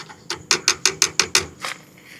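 A ratchet wrench tightens a loose power supply terminal. It gives a close, crisp run of about eight evenly spaced clicks, followed by one softer final click, with no one speaking.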